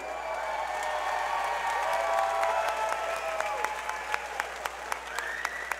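A crowd at a cage fighting event applauds and cheers after a bout, a sustained wash of clapping with whoops rising above it, heard from within the arena.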